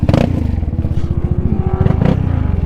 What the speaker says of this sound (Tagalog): Sound checkin natin itong exhaust natin.